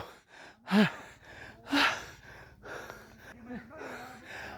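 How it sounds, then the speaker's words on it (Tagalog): Someone hiking a steep trail pants heavily, with a few loud, gasping breaths spaced out over the stretch and softer breathing between them. "Hingal din yung kasama ko."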